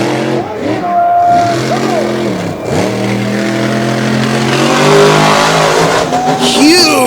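The Outlaws racing truck Overkill Evolution, freshly rebuilt, launches at full throttle at HorsePower Park in 2021, its loud engine howling and shifting pitch in rising sweeps as it charges off, with a commentator talking over it.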